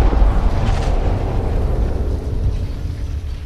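An explosion in the video game Beyond: Two Souls rolls out as a loud, deep rumbling blast that holds for a few seconds before slowly thinning, with no voices over it.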